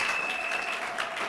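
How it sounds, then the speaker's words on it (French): A church congregation claps and applauds for Jesus during a worship service, a dense, steady crowd applause filling the space throughout, with a sustained tone ringing faintly over it. "Acclamez Jésus."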